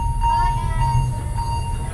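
A cypress-carriage train on the Alishan Forest Railway idles with a low steady rumble and a thin mechanical whine heard from inside the carriage.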